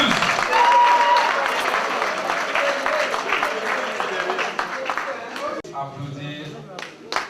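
An audience claps at an evening gala at the Lycée du Manengouba school, a steady wash of applause that slowly fades, with voices mingled in and a short spoken passage near the end.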